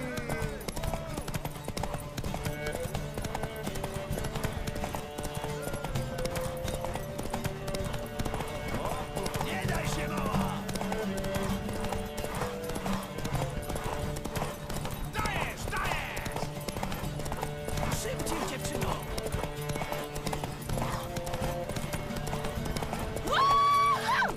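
Horse hooves clip-clop rapidly and steadily through a race in The Witcher 3, mixed with game music and occasional whinnies while characters talk throughout.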